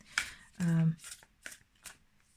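A deck of tarot cards is riffled in a short burst and a card is pulled, with soft card flicks close by while a person talks alongside.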